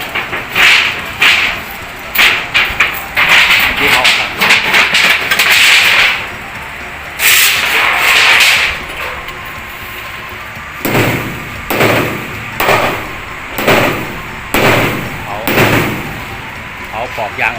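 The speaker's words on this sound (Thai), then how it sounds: "เสร็จแล้วก็จะตอกปอกนะครับปอกเหล็ก" Heavy hammer blows drive a steel leaf spring bushing out of a Tata Giant truck's spring eye, ringing metallic strikes repeated in fast bursts and then spaced single hits, loud and close.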